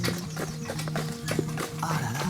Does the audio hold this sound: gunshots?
no